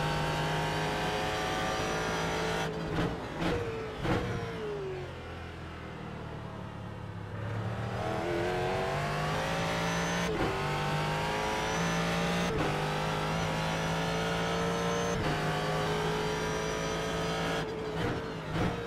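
Ford GT3 race car in iRacing at Barber Motorsports Park, its engine droning loud and steady as it revs up through the gears, drops off around a corner and climbs again, with brief shifts and no talk.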